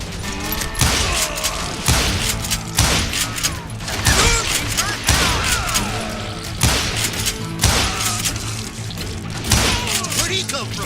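Repeated gunshots in the Wild West shooter Call of Juarez: Gunslinger, loud, sharp thumping reports spaced about a second apart, mixed with game music and voices talking throughout.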